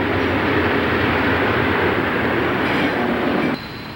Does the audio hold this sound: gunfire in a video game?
no